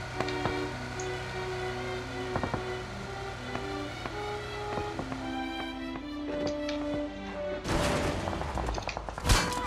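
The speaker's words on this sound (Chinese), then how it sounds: "两个枪声" Gunshots ring out in a battle video game, a handful of sharp isolated cracks spread across the stretch, ending in a louder cluster of rapid shots near the close, over a steady game-sound backdrop.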